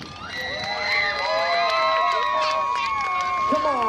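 A demolition derby grandstand crowd at the Lake of the Woods County Fair in Baudette, Minnesota cheers and yells, with many overlapping shouts and whoops, including children's voices, swelling and sustained throughout.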